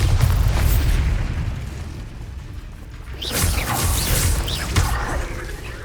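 Confringo and Bombarda spell explosions in Hogwarts Legacy erupt as heavy booming blasts with whooshing bursts, a loud rumble fading midway before a second sharp, crackling explosion hits.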